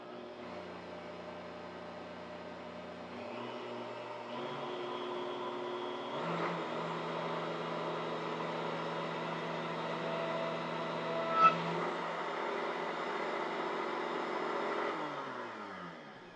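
A Vitamix blender fitted with an Aer disc whips dalgona coffee, its motor whirring steadily and climbing through higher speeds over about sixteen seconds, loud and close with no talk.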